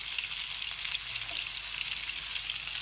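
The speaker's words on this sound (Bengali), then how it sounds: "একটা বড় পেঁয়াজ কুচি করে নিয়েছি, একটু ভেজে নিচ্ছি।" Chopped onion sizzling steadily in hot oil in a pan, cooked at the start of a masala rohu fish curry; a continuous, even hiss with no talk.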